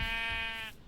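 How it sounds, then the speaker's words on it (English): A single sheep bleats in a Minecraft world, one short wavering bleat heard clearly on its own. "I can't mimic the sheep sound."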